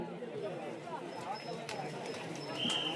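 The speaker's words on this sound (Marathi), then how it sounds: "डाव्या बाजूचा बैल पुढा आगला जातोय." Hooves of racing bulls in a district-level village ploughing race thud in a quick patter across a muddy field, faint and distant under an excited commentator's voice.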